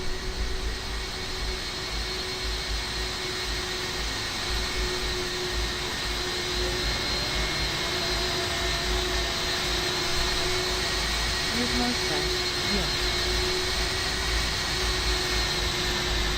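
Airbus A320 jet engines in Microsoft Flight Simulator 2024 give a steady, loud, broadband roar with a constant tonal hum underneath, unbroken throughout and with no voices.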